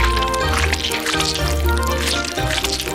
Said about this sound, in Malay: tuangkan coklat ke atas kek. Sebanyak mungkin coklat.